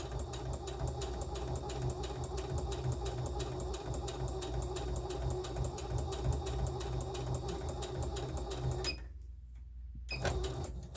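A sewing machine stitches a child's tote bag with a steady, fast mechanical whir and rhythmic needle clatter. It runs continuously at close range, stops briefly near the end, then starts again, with no talking.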